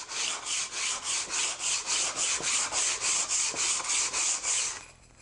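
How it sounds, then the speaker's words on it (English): Sanding a sharp-cornered wooden puzzle block by hand with 100 grit sandpaper: about a dozen rhythmic, evenly spaced rasping strokes, close and fairly loud, stopping abruptly near the end. "I'm going to take 100 grit, and I'll use that to knock down the corners"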